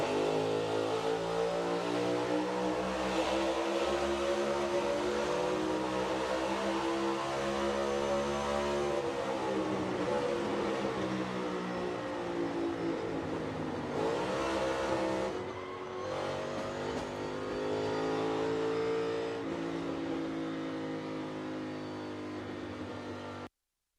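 A NASCAR Cup race car engine heard from inside the car: a loud, continuous high-revving roar with rich harmonics, pitch sagging and climbing slightly, with a brief lift in revs partway through.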